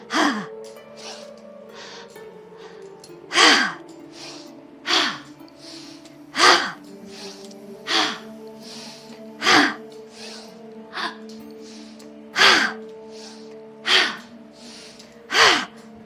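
Rhythmic yoga breathing during a flow class, sharp forceful breaths repeating roughly every second and a half, close and loud over a sustained low musical drone, with no talk.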